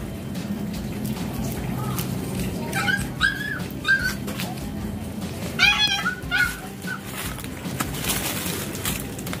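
Small dog yelps and whines in short bursts, close by, a few clustered calls over steady background noise.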